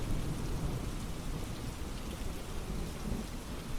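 Steady rainfall with a low thunderstorm rumble beneath, a dense even wash of drops that holds at a moderate level throughout with no voices.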